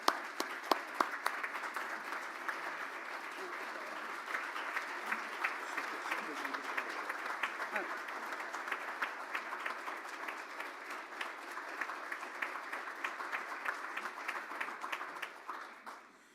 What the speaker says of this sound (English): Please join me in applauding Margaret